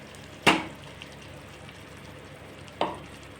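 Ground masala paste for a tomato masala curry is poured into a hot pan. Two sharp sizzling bursts a couple of seconds apart each fade quickly, with quiet in between.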